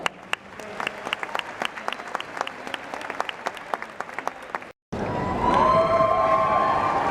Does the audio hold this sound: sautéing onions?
no